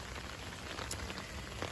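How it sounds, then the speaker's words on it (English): Steady rain on a spring morning patters densely and evenly over garden plants and cucumber beds, a soft continuous hiss with no voices. "here's everything else actually getting rain on it"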